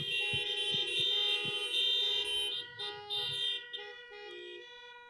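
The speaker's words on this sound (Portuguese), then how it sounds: "Nós não batemos palmas agora, nós buzinamos." Several car horns honk at once at a drive-in church service, used in place of applause, loud and sustained with overlapping blasts, some long and some short toots, outdoors.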